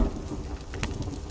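Rain falls in The Forest video game as a steady, even hiss of close rainfall, with faint bird-like chirps and no talk, lasting just over a second.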